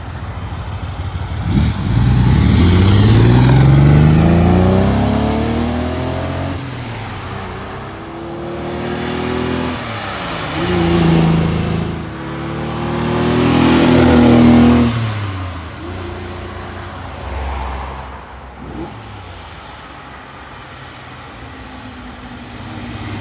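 A 1967 Ferrari 330 GT 2+2 Series II passes several times on a road test, its engine revving up and falling in pitch as it sweeps by, loud and close, then fading away between passes.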